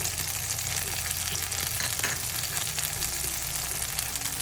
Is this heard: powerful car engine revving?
no